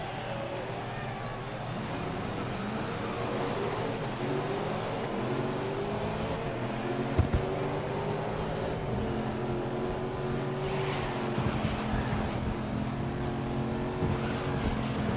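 Car engines accelerating in a Stadia racing video game, a steady droning roar with rising and falling revs throughout, a brief thump midway, with faint talking underneath.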